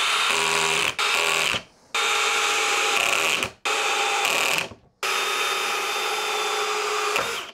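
Flex cordless drill running in first gear on a small 2.5 Ah battery: a loud, steady motor whine in four long runs separated by brief stops, close up with no voices.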